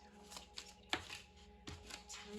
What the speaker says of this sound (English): Shuffle this. Shuffle on this one.